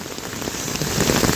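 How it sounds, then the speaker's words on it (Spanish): Heavy hail mixed with a downpour pounds a city street in a dense, steady roar that holds close and loud throughout. "Está cayendo muchísimo granizo."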